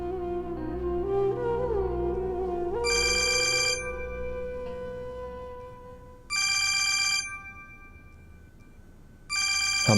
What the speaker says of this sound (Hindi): हमाद का फोन है।